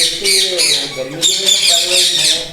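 A blue ringneck parrot, one of a breeding pair, gives loud, harsh squawks close by. The calls come in repeated raspy bursts with almost no gap between them.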